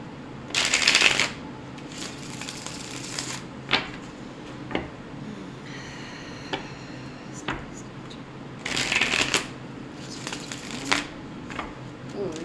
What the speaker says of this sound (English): these cards just want to fly right out.